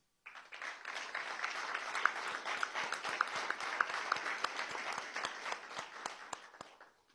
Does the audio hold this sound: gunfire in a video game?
no